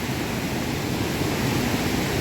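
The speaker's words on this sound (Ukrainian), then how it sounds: "Спускаємось до водоспаду" A waterfall at Yaremche rushes in a steady, dense roar of falling water that stays loud and even throughout, with no voices over it.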